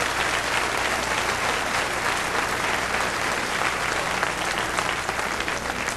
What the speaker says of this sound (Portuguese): Agora, por favor, aplaudam a quem é responsável pela Bíblia.